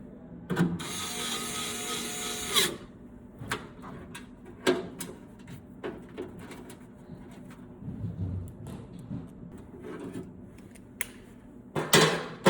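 Screwdriver work putting screws back into a motor: a whirring drive burst followed by scattered clicks, taps and small metallic handling knocks, close and moderately quiet.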